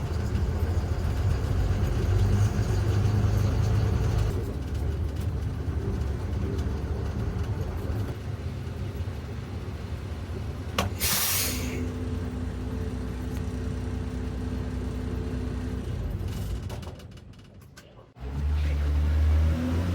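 A bus is driven over to park, its engine droning loudly at first, then settling to a lower hum with a sharp air hiss midway, dropping away briefly before rumbling again.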